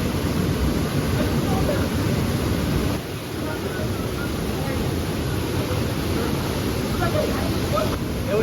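Waterfall near a village, heard as a steady broadband rush of falling water that fills the whole stretch, loud and continuous with a brief dip partway through.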